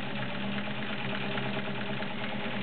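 A heavy-duty Kenmore 1750 sewing machine runs quietly with a steady, even motor hum and no breaks.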